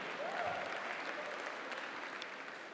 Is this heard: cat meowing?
no